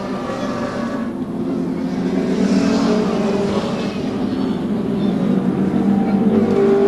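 Continuous loud engine roar of under-2-litre touring cars racing at Winton in 1988, a steady droning mix of motors without clear pauses, close and sustained throughout.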